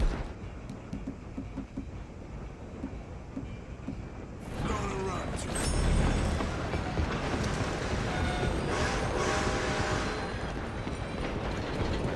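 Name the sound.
moving steam train in the video game Red Dead Redemption 2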